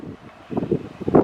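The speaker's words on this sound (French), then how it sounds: "Je sais pas si vous m'entendez avec le vent." Gusty wind buffets a microphone outdoors on a walk back toward Port-Vendres, coming as low rumbling bursts that swell and fade, loudest toward the end, with no voice.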